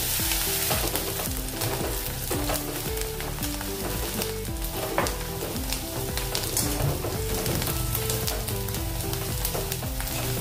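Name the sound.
finely chopped onions frying in a pan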